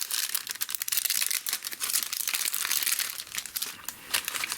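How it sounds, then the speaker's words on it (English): Plastic packaging of a craft stamp and die set crinkles and crackles steadily as it is pulled open up close, a continuous rustle with no talking. "Let's open this guy up."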